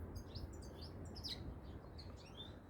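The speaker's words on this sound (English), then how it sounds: "Loads of birds in there." Several small birds chirp and tweet from within a garden hedge, bright overlapping calls at moderate distance over a steady low background hum.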